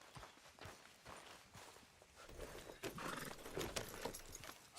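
Horse hooves clip-clop faintly and steadily in the Red Dead video game, a soft, uneven run of distant hoofbeats with no talking.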